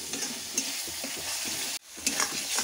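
Spice masala stir-fried in a pan for a rohu fish tomato curry, a dense close sizzle with spatula scrapes, briefly cut off midway before resuming, no speech.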